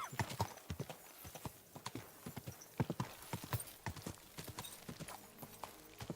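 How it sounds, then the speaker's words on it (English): Horse hooves clip-clopping in Kingdom Come Deliverance II, a steady run of close hoof beats on ground with faint background sound. "Why don't we grab our horse and ride down to Semine"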